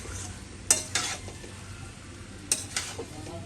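Potatoes and pointed gourd sauté in a pan for an egg curry, a soft steady sizzle broken by a few sharp stirring scrapes and clinks of the spatula against the pan.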